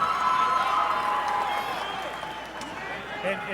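A crowd cheers and applauds at an amateur fight event, a loud roar that gradually fades, with a commentator talking over it.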